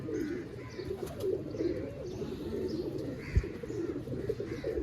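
Young Ferozpuri pigeons coo softly and steadily at close range in a loft, giving a low, continuous murmur with a few faint chirps and one brief thump.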